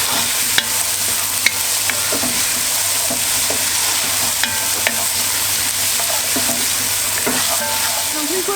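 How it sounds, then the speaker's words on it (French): Marinated chicken frying in a pot, a loud continuous sizzle with repeated sharp clicks and scrapes of a utensil stirring against the pot, no talk. "On mélange, comme je vous ai dit, faites attention parce que ça va caraméliser assez vite"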